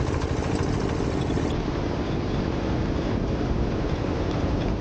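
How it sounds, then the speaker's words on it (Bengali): A motorized bhotbhoti boat ferrying passengers from Udaipur to New Digha runs with a steady, loud engine drone throughout, close and continuous with no talk. "সো গাইজ ছেড়ে দিয়েছে ভটভটি"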